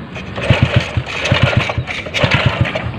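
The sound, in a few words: motorcycle engine running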